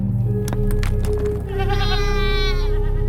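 Goats bleating in a desert setting, a series of wavering, quavering calls that come and go over a steady low drone, fairly close and loud, with no talking.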